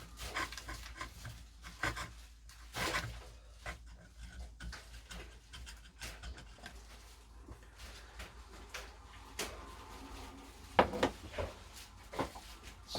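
A tool scrapes and rubs across parts during restoration of a Thorn 8940 VHS recorder, giving close, quiet rasping strokes in an irregular rhythm with occasional sharper knocks.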